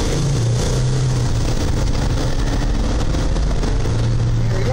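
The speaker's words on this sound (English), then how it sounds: "Now think about that weight that we have in here and how good this vehicle still accelerates." A heavily loaded Mercedes Sprinter van accelerates on a test drive: a steady, loud engine drone rising gently, heard from inside the cabin with road noise and no talking.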